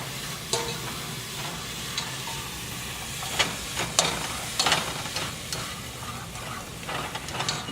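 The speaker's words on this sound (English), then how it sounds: "we're just going to stir this around a little bit" Onions sauté in a pot for meatball soup with spinach and celery, a soft continuous sizzle broken by irregular spoon scrapes and clicks as they are stirred, close by, with no speech.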